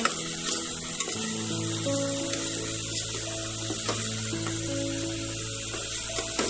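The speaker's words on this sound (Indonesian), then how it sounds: "tumis sampai harum seperti ini" Spices and aromatics for Indian dal sautéing in a pan until fragrant, a loud continuous sizzle with a few stirring scrapes, over a steady tonal hum.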